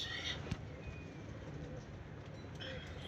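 Soft cooing of a teddy pigeon faintly over a steady low background hum, with a brief knock near the start.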